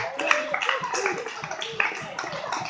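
A church congregation claps hands in rough rhythm under lively voices and shouting, the claps sharp but partly masked by the crowd noise.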